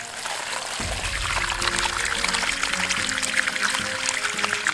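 Water gushes from a pressurized deep well pump, a steady splashing pour that starts after a brief quiet moment and continues evenly, close by, with no talking.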